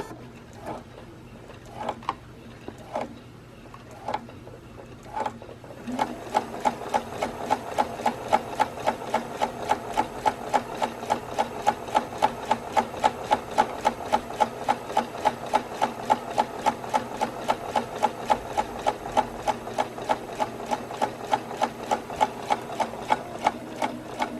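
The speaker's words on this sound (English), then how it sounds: "And then you start sewing along the first edge." A sewing machine stitches fabric for a baby's pacifier clip, starting with a few separate taps and then settling into a fast, steady mechanical rattle that runs without a break to the end.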